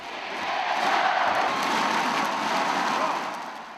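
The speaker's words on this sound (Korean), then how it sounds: "멀리서나마 가족은 격려의 박수를 보낸다." Baseball crowd in a Korean stadium applauding and cheering, a steady broad wash of clapping and voices that swells in and fades out over a few seconds.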